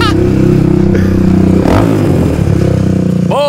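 Midsize quad ATVs racing on a homemade dirt track: loud, close engine drone with revving and clatter as the machines pass.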